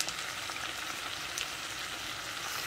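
Chicken for biryani sizzles steadily in a pan with chili, cumin and turmeric powders, a continuous close frying hiss with faint stirring and no voices.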